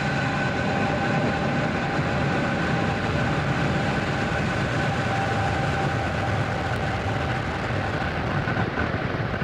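Falcon 9 rocket roaring after liftoff, a loud, steady broadband rumble that holds unbroken for the whole stretch, with no voices over it.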